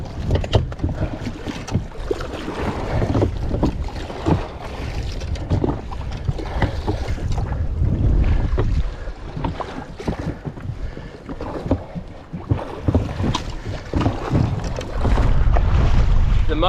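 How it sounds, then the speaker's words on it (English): A small fishing boat off Shark Bay rowed with oars against offshore wind, with loud, steady wind buffeting the microphone over splashing water and rhythmic rowing strokes, no speech. "I wasted no time jumping on the oars and heading towards the closest land point."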